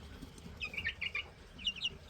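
Chickens clucking with a young rooster among them, a few short, bright calls in two clusters at moderate distance over a low background hum.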